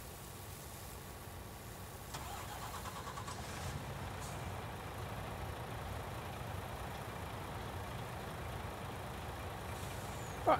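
A truck in Farming Simulator 19 drives steadily with a continuous low engine rumble and broad road noise, a brief hiss-like shift partway through, and a sharp click at the very end, with no talking.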